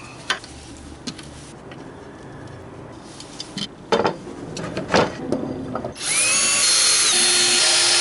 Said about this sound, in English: Now I can unscrew everything here.